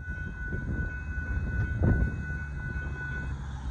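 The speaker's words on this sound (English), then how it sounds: "There goes that northbound KCSM starting to make up with Grey Ghost UPAs 1111 trailing" Northbound KCSM mixed freight train with a grey ghost UP unit 1111 trailing, rumbling steadily past at moderate distance, low continuous rail noise with a faint tonal whine and a brief swell midway.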